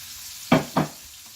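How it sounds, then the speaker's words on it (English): Hamburger patties land in a hot pan as two quick, loud sizzling bursts, each fading into a low, steady frying hiss. "I'm going to go ahead and put the hamburgers in here"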